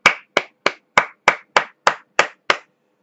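Nine sharp, evenly spaced hand claps from a single person, close and dry with no voices, offered as applause for the Chilean people.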